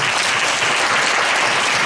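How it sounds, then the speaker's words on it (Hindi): A church congregation claps loudly during a prayer service, producing a dense, sustained roar of applause close by, continuous throughout with no voice rising above it. "जोरदार ताली बजाएंगे।"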